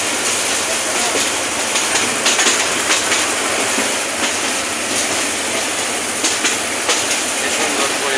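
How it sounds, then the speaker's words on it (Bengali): A passenger train running on rails through a forest area in Bangladesh, a loud continuous rumble and rushing noise with faint rhythmic clicks of the wheels, heard from inside the train. "ট্রেন জার্নিং এর মজাই আলাদা"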